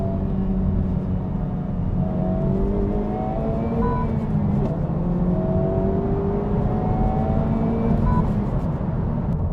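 A 2023 Honda Civic Type R engine drones steadily while downshifting through 4th and 3rd to 2nd gear, its pitch rising and falling with each shift, heard from inside the car with no talking.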